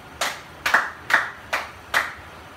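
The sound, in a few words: clapping for a group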